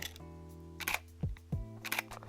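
A Nikon Z fc mirrorless camera fires its shutter in a few crisp, quiet mechanical clicks spread across a couple of seconds over a low steady hum, with no voices.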